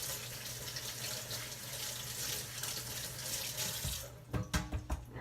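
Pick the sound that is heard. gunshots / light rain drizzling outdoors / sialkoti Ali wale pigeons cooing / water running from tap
water running from tap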